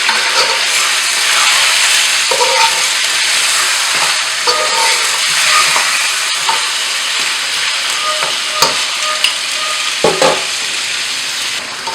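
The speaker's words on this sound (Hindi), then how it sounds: "इसे हम 2-3 मिनट के लिए तेज़ आंच पे भूनेंगे," Mutton for a Peshawari charsi karahi fries over high heat, making a loud, dense, continuous sizzle and hiss close by. Occasional stirring scrapes and clatters break through, and no one speaks.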